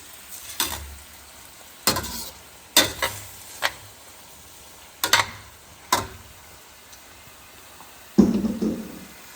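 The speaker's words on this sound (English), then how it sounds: "So let me transfer this wilted spinach in here." Wilted spinach is transferred into a pan of cooked herbs and fennel for a Greek spanakopita filling, heard as a series of sharp utensil clacks and scrapes spaced a second or so apart, ending with a louder, fuller scrape and shuffle.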